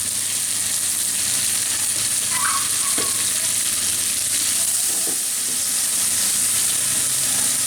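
Chopped tomatoes frying in a pan for an aloo dim (potato and egg) curry, giving a steady, even sizzle and hiss with a few faint clinks, no voices.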